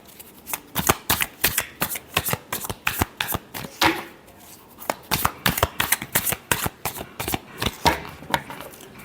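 Tarot cards shuffled by hand close up, a rapid series of crisp riffling and flapping bursts repeating steadily throughout with brief gaps between handfuls.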